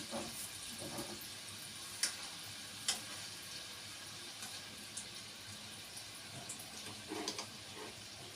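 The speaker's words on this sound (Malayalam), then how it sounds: "ഒക്കെ വിട്ട് പിന്നെ വീണ്ടും ഈ സാധനം എണ്ണയിൽ മുക്കി വെക്കണം." An achappam mould dipped into hot oil, bringing a faint continuous sizzle and bubbling with a few sharp metallic clicks scattered across it.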